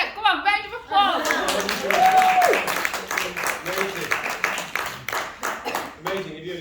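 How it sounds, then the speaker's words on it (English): Audience applause breaks out as clapping spreads through the room, with sharp hand claps rising and falling, while voices talk and a whistle sounds over it. "come on, round of applause."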